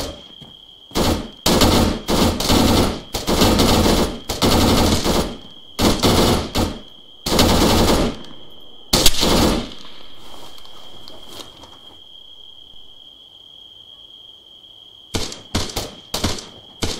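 Gunfire in the Arma military simulation game: loud, close bursts of automatic fire in rapid succession, several sustained volleys with brief gaps, a quieter stretch, then a final cluster of short bursts.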